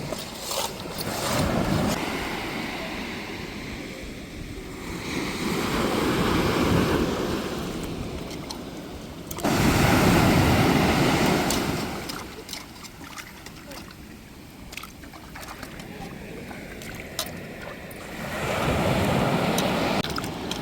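Rough, aggressive sea waves crash against the shore in repeated heavy surges every few seconds, with wind buffeting the microphone and no speech.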